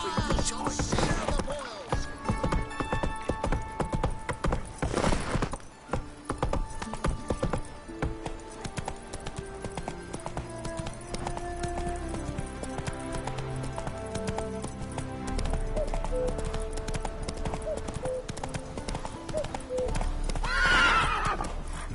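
Roach, the horse in the Witcher 3 video game, gallops with steady clip-clop hoofbeats and gives a loud whinny partway through. Game music plays underneath, and a short neigh returns near the end.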